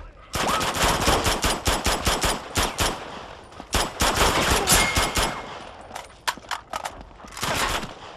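Rapid bursts of automatic gunfire from the video game Uncharted 2, loud and close, with several long volleys broken by short pauses and a few isolated shots near the end.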